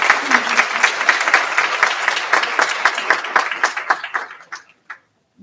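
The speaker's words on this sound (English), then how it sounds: "you earned a round of applause" A room full of people claps steadily, then the applause thins out and fades to a few last scattered claps.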